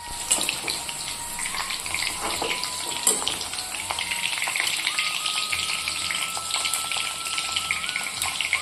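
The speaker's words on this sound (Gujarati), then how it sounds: "ધીમા તાપે બધું શાકભાજી તળી લઈશું ફ્લાવરને" Cauliflower florets for an aloo gobhi curry fry over a low flame, giving a steady, moderately loud crackling sizzle with light spatter throughout and no voices.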